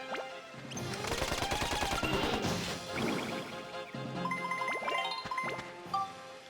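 Rapid gunfire in the video game Dark Cloud 2, a dense burst of repeated shots layered with metallic pings and game effects, loud and continuous over several seconds.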